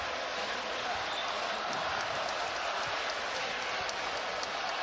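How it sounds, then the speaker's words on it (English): Loud, steady roar of a basketball crowd cheering and applauding at a Creighton versus Providence college game during a timeout, a dense wash of noise that never lets up, with a commentator's voice faintly beneath it. "Here comes the crowd."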